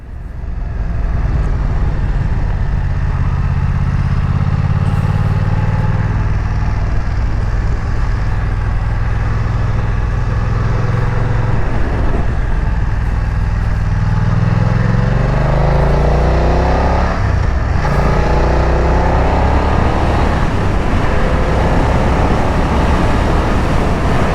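A car engine under way with a manual clutch, rumbling loud and steady for the whole stretch, the pitch climbing and dropping as it shifts through gears, with no voices.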